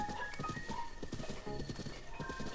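Horse hooves clip-clop in a quick, steady rhythm in the video game Zelda: Breath of the Wild, close and prominent over a noisy outdoor ambience, with a horse whinny woven in.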